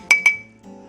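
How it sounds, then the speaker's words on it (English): A metal spoon clinks twice against a pot of spaghetti sauce with meatballs and sausage, two quick bright ringing taps close up, followed by a soft scrape. "So I'm going to get this spoon in here and pull this grease out."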